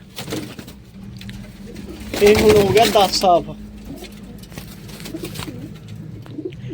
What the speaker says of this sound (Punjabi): ਇਹ ਆਪਣੇ ਸਾਰੇ ਕਬੂਤਰ ਹੈ ਇੱਕੇ ਨਵਾਂ ਕਬੂਤਰ